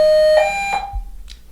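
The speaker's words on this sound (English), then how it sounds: "There's our bell." An electronic bell or chime gives a sustained ringing tone followed by a couple of short pulses, clear and fairly close, with no talk over it.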